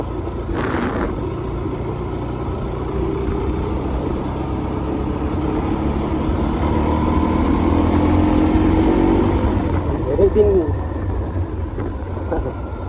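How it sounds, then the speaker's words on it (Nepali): A motorcycle engine drones steadily as the bike rides along, swelling slightly toward the middle and staying close throughout. "धेरै दिनपछि बाइक चलाएको चाहिँ"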